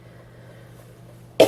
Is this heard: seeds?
no